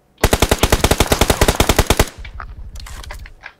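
Gunfire in PUBG Mobile: a loud, close automatic burst of about twenty rapid shots in under two seconds, followed by a few scattered fainter shots.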